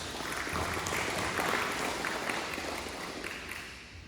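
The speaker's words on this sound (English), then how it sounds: "Let's give all of them a big round of applause." Steady applause from an audience at a school district event, a dense even wash of clapping lasting the whole stretch and tapering slightly at the end, with no talk over it.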